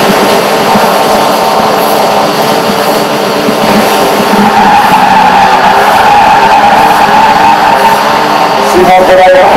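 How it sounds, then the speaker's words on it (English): A car drifting in the video game Forza Horizon 5, its tires squealing and skidding over a steady engine roar, with a person talking over it. "I'm going to be doing 100 drifts in Forza Horizon 5"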